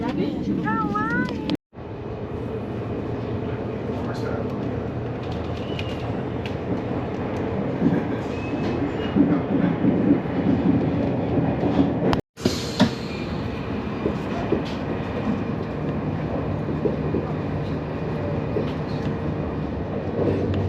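Inside a moving French TGV high-speed train departing Barcelona Sants, a continuous rumbling roar with rattling and clatter carries on, with faint murmured voices beneath it.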